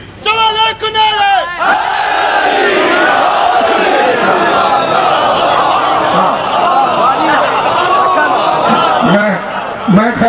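A large crowd at a Shia religious majlis roars a slogan in unison, a loud, dense, sustained chant that fills the space after a brief opening voice.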